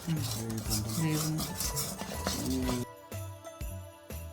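A spoon scrapes and clinks repeatedly against a pot as thick homemade glue paste is stirred while boiling, with a bubbling, sizzling background.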